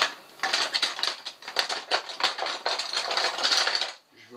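A metal spoon clatters and clinks against a pot of hot water holding a foie gras ballotine, giving a dense run of quick, close rattling taps that stops abruptly near the end.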